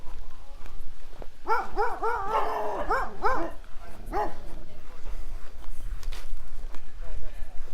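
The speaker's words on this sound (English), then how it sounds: "More dogs. They never like it when you walk by their yards." Several dogs bark from backyards along a lakeside residential street at Last Mountain Lake, a burst of repeated barks and yips at moderate distance, with walking noise and ambient outdoor sound around them.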